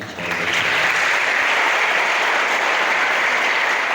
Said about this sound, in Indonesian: Tepuk tangan buat Iqbal.